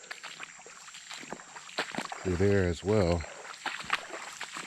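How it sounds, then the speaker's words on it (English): Shallow water splashes and sloshes underfoot in irregular steps while someone talks over it. "I'm sure you can hear the water."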